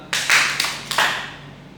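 Hand claps in a classroom guidance session: three distinct loud claps spaced roughly a third of a second apart, each ringing briefly in the room, with no talking.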